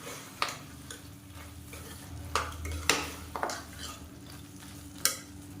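Chicken stirred in a pot for chicken biryani, with a low sizzle underneath and sharp scraping clinks of a utensil against the metal pot at irregular intervals, close by.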